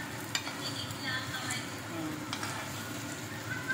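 Meat marinated in plenty of garlic and vinegar fries in a pan, a soft, steady sizzle mixed with light stirring scrapes, quiet and close.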